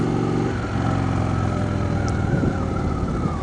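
A 2014 Indian Chief Classic motorcycle pulls up to speed toward a freeway, its engine a steady, fairly close drone with layered harmonics and wind rush, alone without voices.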